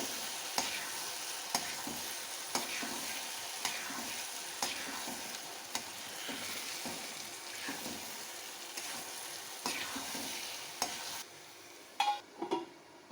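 Eggplant sizzles and crackles in a hot frying pan with spices as it is stirred, with regular scraping strokes of a spatula and a few louder clatters near the end.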